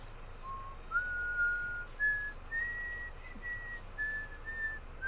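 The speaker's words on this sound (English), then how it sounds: "York, could you stop whistling that?" A character in the video game Danganronpa V3 whistles a slow, wavering tune of sustained notes rising in steps, clear and steady over a low background hum.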